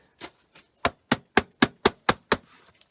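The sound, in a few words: hammering on tractor front end part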